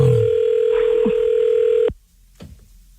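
Telephone ringing tone while a number is being called, one sustained steady electronic tone that cuts off abruptly, followed by faint clicks and near silence.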